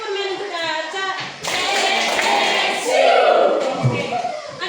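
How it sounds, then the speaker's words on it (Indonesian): A school class in a science lesson does a group Superman clap: a teacher's voice comes first, then a burst of rhythmic clapping and chanting children's voices fills the room. "Sekarang kita tepuk Superman untuk Aca."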